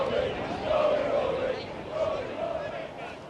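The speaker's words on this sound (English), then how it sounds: "It's a small patch of crowd, but it's a loud one." A small but loud patch of golf spectators at the Ryder Cup cheers and hollers in uneven swells, their voices rising and falling for a few seconds at moderate distance.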